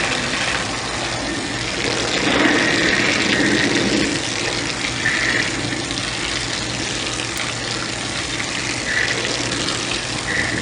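Water pouring steadily from a tap or hose onto worm bin bedding, a continuous loud rush with a faint engine-like hum underneath and no speech.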